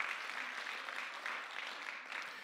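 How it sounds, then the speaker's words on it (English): Audience applause for a woman ministry leader at a church service, a steady rain of clapping from a crowd, fairly quiet and slightly distant, holding evenly throughout. "if you can give her a hand of applause"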